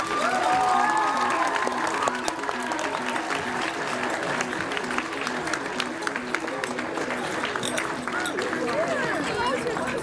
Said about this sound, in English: One more huge round of applause for all of our coaches and parents.